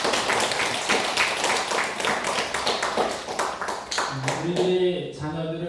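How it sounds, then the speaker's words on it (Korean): A church congregation claps in welcome during a Sunday service, a lively run of many hands clapping near at hand, then fading as voices and music come in near the end. "저는 환영의 박수 한번 하겠습니다"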